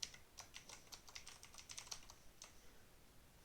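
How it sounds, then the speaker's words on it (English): Rapid, irregular keystrokes on a computer keyboard while typing into Notepad, crisp and close, with short bursts and brief pauses and no voices. "I gotta type this in Notepad quickly."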